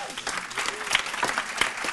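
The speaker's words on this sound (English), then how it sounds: "let's give that a round of applause" A conference audience applauds in a dense, continuous burst of clapping that fills the whole short moment.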